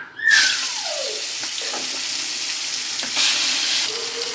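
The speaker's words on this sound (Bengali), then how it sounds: "আমি মাছ ভেজে নেব, এই জন্য প্যানে তেল দিয়ে দিয়েছি।" Fish sizzles in hot oil in a frying pan, a steady broadband hiss that flares loud as the fish goes in, with a few clinks and a swell of spattering midway.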